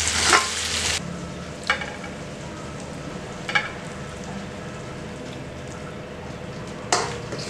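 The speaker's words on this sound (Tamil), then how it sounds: "நல்லா கிளறிட்டு மூடி வைங்க" Prawn fry being stirred in a pan, a steady low sizzle of frying under a few sharp scraping strokes of the spoon spaced a couple of seconds apart, close and fairly quiet.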